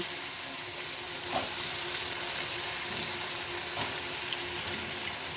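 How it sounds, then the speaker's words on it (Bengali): Winter vegetables dropped into a pan of fried spices and salt, a dense continuous sizzle with occasional stirring knocks, steady and close, no voices. "মশলাটা ভাজা শেষ হয়ে গেছে, এখন আমি সবজিগুলো দিয়ে দিচ্ছি।"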